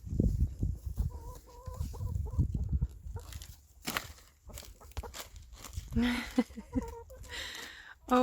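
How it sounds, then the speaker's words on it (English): Backyard chickens on a small English farm cluck busily while pecking at fresh Swiss chard greens. Their short bursts of clucks come close and irregular over light background noise. "Oh my goodness, the chickens love it."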